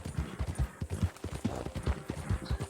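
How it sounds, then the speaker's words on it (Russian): Horse hooves galloping steadily in Red Dead Redemption 2, a quick rhythmic clip-clop of repeated beats, fairly close and moderately loud with no talk over it. "И все быстрее скачу. Без остановок. Сейчас загоню лошадь и все."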